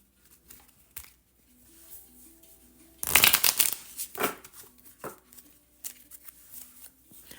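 Large oracle cards are shuffled by hand in a loud riffling burst lasting about a second, then handled in softer taps and slides, set against a faint steady hum.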